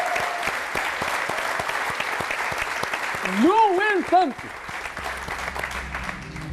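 Studio audience applause on a Portuguese television game show, steady clapping under a sung or tonal voice flourish midway, with a presenter's brief speech at the start.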